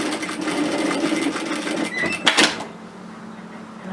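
A home sewing machine stitching straight through a serged seam line on nightgown fabric, a fast steady mechanical whir that ends with a short clatter as it stops.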